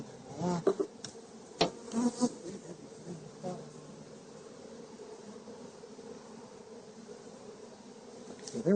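A dense, steady buzz of many honey bees rises from an opened hive box, holding at an even level throughout, with a few short knocks and handling sounds near the start.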